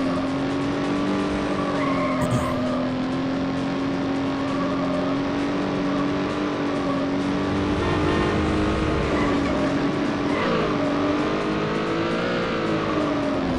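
Race cars in Need for Speed: High Stakes on PC roar together in a steady, loud, high-revving engine drone. Tires squeal as they skid, and the pitch shifts slightly as the pack jostles, with no speech.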